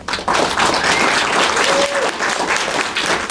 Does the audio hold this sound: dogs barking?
no